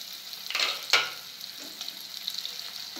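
Chopped onions sizzle and fry in hot oil for a potol rasa gravy, a steady, fairly quiet crackle with a couple of sharper bursts early on, alone with no talk.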